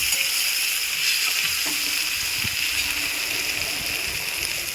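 Chopped tomato fries in a pan with a loud, steady sizzling hiss close by, joined by a few faint stirring clinks and no voices.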